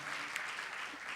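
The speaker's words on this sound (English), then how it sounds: "let's just give all those people a round of applause real quick" Audience applause fills a convention closing plenary: a steady, dense wash of clapping that holds evenly through the moment with no voices rising above it.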